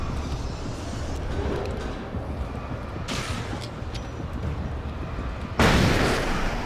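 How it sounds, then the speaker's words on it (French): Grenade explosions in the video game Alan Wake over a continuous rumbling game ambience, with one burst near the middle and a louder, sharper blast toward the end. "j'ai préféré claquer une grenade"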